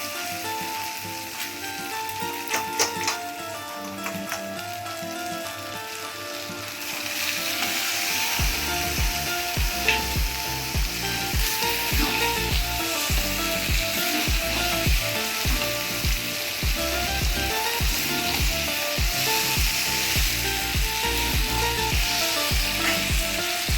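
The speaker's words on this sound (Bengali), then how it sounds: "তোমার মশলাটা একদম রেডি এবার আমি মাংসটা দিয়ে দেবো" Goat meat drops into hot spiced oil and sizzles loudly, a quieter oily crackle giving way after about eight seconds to a dense, steady frying hiss broken by repeated scraping stir strokes.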